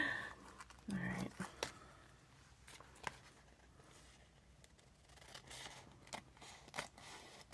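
Scissors snip through tissue paper in a quiet craft session, with a few soft, scattered cuts and rustles spread out over several seconds, close and faint and separated by near silence.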